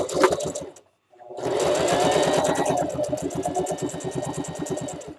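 A sewing machine stitches fabric seams around an Easter basket, running in a steady, rapid pulse of needle strokes after a brief pause near the start.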